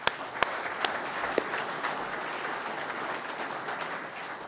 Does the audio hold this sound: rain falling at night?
no